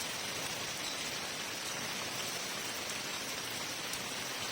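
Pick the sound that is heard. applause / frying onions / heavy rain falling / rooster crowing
heavy rain falling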